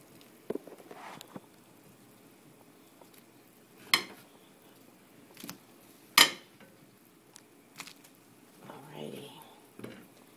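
Small pieces of cut plantain go into a pot of water one after another, giving a few scattered clinks and soft plops against a quiet kitchen background, with a voice faintly present.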